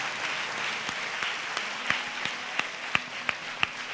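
A church congregation at a New Year's Eve fasting prayer service claps over a low crowd wash, with sharp, regular claps growing louder and more distinct toward the end.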